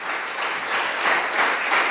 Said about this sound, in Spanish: Dele su mejor aplauso al Señor en esta noche.